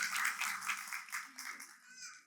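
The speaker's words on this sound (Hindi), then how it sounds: "फिर से एक बार टोनी जी, सोनिया जी और उनकी डॉटर दीति के लिए जोरदार तालियां हो जाए।" Audience clapping at a company Diwali celebration for a textile machines firm, a fairly quiet patter of hands with faint voices mixed underneath, gently rising and falling.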